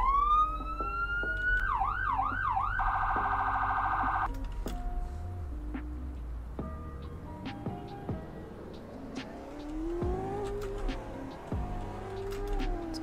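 Siren of a 2013 Falcon ambulance in Roblox Greenville: a rising wail that shifts into fast yelp and steady hi-lo tones, then gives way to revving engine and shifting gears, loud and continuous with no talk.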